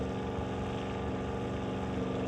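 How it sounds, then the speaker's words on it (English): A drag racing car engine with a custom exhaust at an NHRA Summit ET Series race: a steady, droning engine roar with a harmonic buzz, moderately loud and unchanging, no voices. "Johnson's custom exhaust going up against that 1972 Plymouth"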